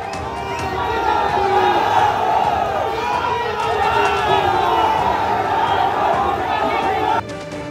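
TMC and BJP supporters chant slogans against each other at rival rallies in Pundibari, Cooch Behar: a loud, dense crowd roar of rhythmic shouting that carries on steadily throughout.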